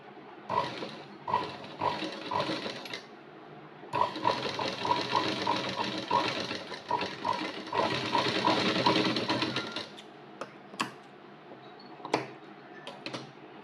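Sewing machine stitching the front panel of a blouse along marked dots, running in several steady rhythmic bursts with brief pauses, then a few isolated clicks as it stops.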